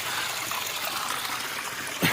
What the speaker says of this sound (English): I can fill the water level back up.